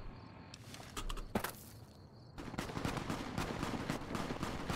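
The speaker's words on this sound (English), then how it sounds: "Who the fuck is shooting?" Gunfire in a Fallout game, a series of sharp shots in the first half followed by a denser run of rapid cracks and thumps, moderately loud with no talk.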